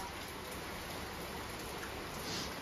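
Rain falls outdoors in a steady, dense, even patter that stays close and unbroken, with no voices.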